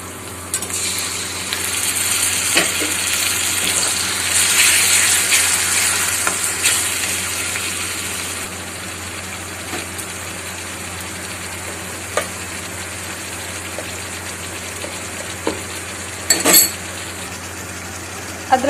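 Tomatoes tipped into golden-brown fried onions for a jackfruit kofta curry raise a steady, fairly loud sizzle and frying hiss, with faint stirring clinks and scrapes of utensils near the end.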